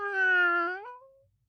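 A person mimics a cat's meow, a single drawn-out, tonal call that holds steady and then bends upward before trailing off, clear and close with nothing else around it.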